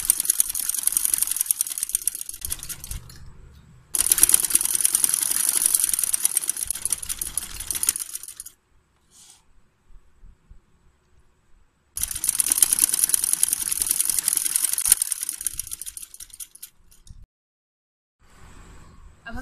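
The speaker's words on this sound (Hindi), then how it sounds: "अब हम इसको सिलाई लगा लेंगे।" A sewing machine stitches a 1.5-inch strip onto the reverse side of a little girl's frock hem, running in two long steady bursts with a quiet pause between them and no talking.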